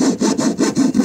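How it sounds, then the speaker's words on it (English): A wood rasp rubs back and forth in quick rhythmic strokes, enlarging a hole in melamine-topped board, about six close, even rasping passes heard up close with no talk. "when I use a wood rasp, I don't ruin the melamine that's on the top here, and I can just enlarge that hole"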